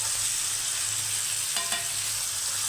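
Tomatoes fry in a hot pan alongside already-browned ingredients, giving a loud, steady sizzle throughout with a brief clatter of stirring midway.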